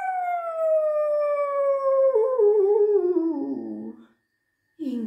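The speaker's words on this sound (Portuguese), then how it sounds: "então ele uiva feito um lobo para o" A long, loud wolf-like howl for a werewolf slides slowly downward in pitch over about four seconds and breaks into a wavering end. Silence follows, then the start of another howl.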